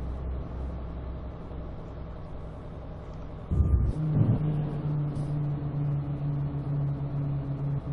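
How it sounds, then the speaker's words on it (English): A truck in the Euro Truck Simulator 2 video game rolls over a rumble strip, a steady engine drone broken by a brief rough juddering burst before the low hum settles back in. "Oh, we're on the rumble strip."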